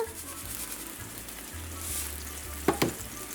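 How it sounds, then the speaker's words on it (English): Onion, garlic and pimento peppers sautéing in a pan with salt give a steady, low sizzle throughout, with a couple of brief louder scrapes or clinks near the end. "we're going to allow this to saute and soften"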